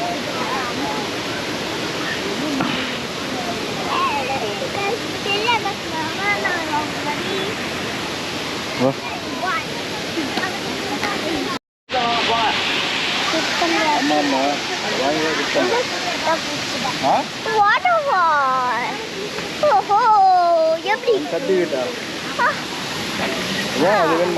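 The Agasthiyar waterfall at Papanasam roars as a dense, constant rush of falling water, loud and close, while several people talk and call out over it throughout.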